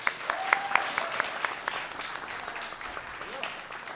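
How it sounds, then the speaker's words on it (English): A live audience at The Bell House in New York breaks into moderately loud applause, with a few sharper claps and a whoop near the start, then settles into a steady wash of clapping. "Please give a round of applause."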